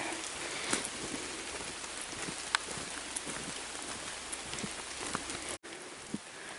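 Rain falls steadily on a wooded forest trail in Boonville, New York, a soft continuous patter with scattered louder drops close by, heard alone without talk.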